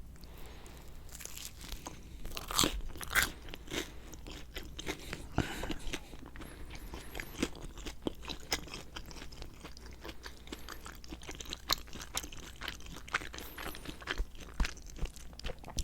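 Close chewing and crunching of Papa Murphy's pepperoni pizza, quiet irregular bites and crisp crunches repeating throughout with no talk.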